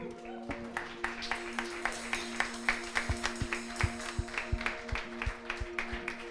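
A church congregation claps in a steady rhythm, with many hands beating together at a moderate distance and a sustained musical tone ringing beneath.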